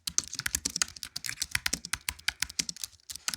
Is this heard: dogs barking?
no